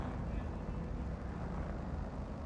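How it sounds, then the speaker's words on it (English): A vehicle engine runs steadily in a video game, a constant low, broad rumble with no distinct revving and no voices over it. "That's a cool sounding engine."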